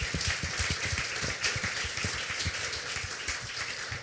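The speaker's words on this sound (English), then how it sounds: "So I just wanted to use if you could help me clap them out because they really did an awesome job." An audience at a Get in the Ring event in Berlin applauding a sales team, with steady, moderately loud clapping from many hands continuing throughout.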